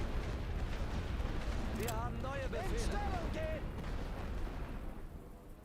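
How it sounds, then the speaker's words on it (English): Heavy artillery fire in the World War I strategy game The Great War: Western Front, a steady rumbling barrage of booms and blasts, with whistling tones rising and falling over the din midway through. "they're using heavy artillery in this wave"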